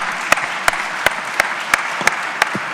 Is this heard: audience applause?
yes